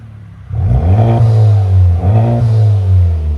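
Honda Civic Type R turbo engine revving loudly through an aftermarket exhaust, two strong sustained rev pulls close up with a deep droning note, the second following a brief dip.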